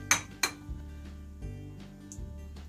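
Six whole eggs cracked against a hard edge and dropped into a bowl for microwave eggs: two sharp taps near the start, then a few softer knocks and clinks, with no talking.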